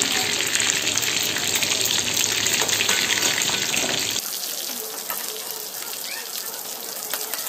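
Chicken pieces for chilli chicken fry in hot oil with a dense, hissing sizzle that suddenly drops to a quieter, thinner bubbling as the heat or pan changes, close up and without talk.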